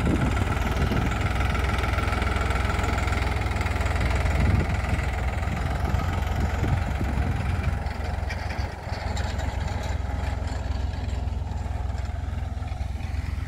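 A New Holland 3630 tractor (12+3 UG Super Plus) engine runs steadily nearby, a loud, continuous low diesel drone with a knocking idle texture that carries throughout without any talk.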